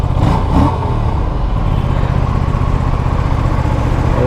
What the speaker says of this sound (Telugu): ఫస్ట్ అయితే దీని ఎగ్జాస్ట్ నోట్ ఇందాం.